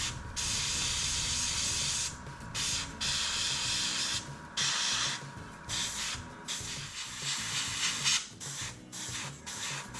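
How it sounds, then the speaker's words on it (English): An airbrush sprays very light layers of paint, including satin black, onto a 1/48 scale Tamiya Spitfire Mk. 1 model, making a steady close hiss that breaks off in several short pauses between passes. "The effect is completed with very light layers of satin black sprayed inside the earlier paints."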